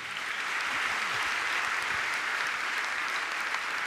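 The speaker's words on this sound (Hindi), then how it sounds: "एक बार जोरदार ताली बजा दें" A large audience at a Jain religious gathering with a revered monk claps loudly and steadily, a dense, sustained wash of applause filling the whole stretch without a break.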